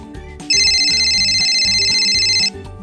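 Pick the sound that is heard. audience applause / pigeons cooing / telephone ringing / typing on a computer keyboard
telephone ringing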